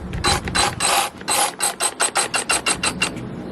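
Rapid mechanical clicking from the safety button and trigger on an EGO Power+ 56-volt brushless cordless electric chainsaw, a loud, close run of about a dozen ratchet-like clicks in quick succession, with no talking.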